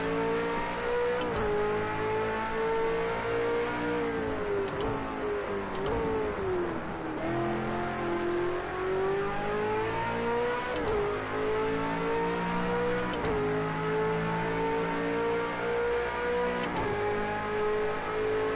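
A V8 Supercar engine in the Project Cars 2 racing game drones steadily around Bathurst, revving up through the gears and dropping at each shift, with a loud, continuous, close-up engine note.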